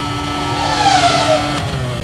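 Onboard engine of a Ferrari F2002 Formula 1 car at the 2002 race broadcast, a loud continuous high-revving scream with a brief pitch sweep as the gears change.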